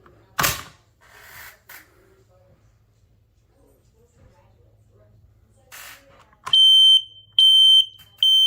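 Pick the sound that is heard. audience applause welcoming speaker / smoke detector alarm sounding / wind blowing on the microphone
smoke detector alarm sounding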